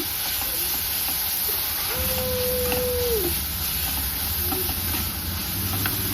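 Coriander seeds fry in a pan for Mandya-style sprouted-gram sambar, giving a steady broadband sizzle throughout, with a brief faint whining tone near the middle.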